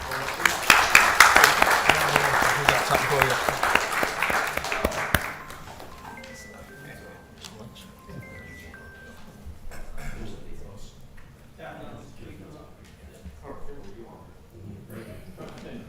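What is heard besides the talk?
audience applause for a heroism commendation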